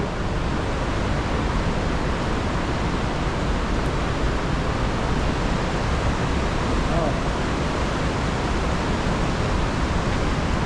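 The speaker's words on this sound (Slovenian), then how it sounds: "Evo, tukaj teče dol voda." Rushing water of the Crnojević river inside Obod cave, a steady loud broadband roar filling the whole stretch without pause.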